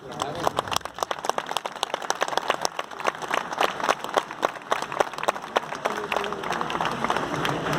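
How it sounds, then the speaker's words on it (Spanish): A crowd claps continuously in dense, lively applause, steady throughout with no pauses, filling the space. "Otro aplauso."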